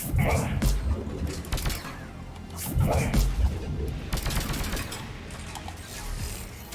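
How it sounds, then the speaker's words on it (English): Rapid gunfire from Geth enemies in the sci-fi shooter Mass Effect 3 Legendary Edition, several dense bursts of shots crackling through a busy combat mix with voices talking over the fighting. "Happiness is killing the Geth as they try to shoot me."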